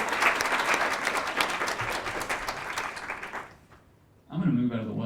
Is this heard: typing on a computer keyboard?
no